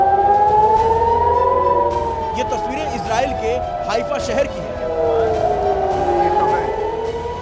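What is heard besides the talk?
air raid sirens in Haifa, Israel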